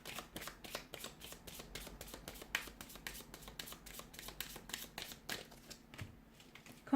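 A deck of tarot cards shuffled nearby, with rapid dry card flicks and taps following one another steadily, then a louder knock at the very end, and no speech.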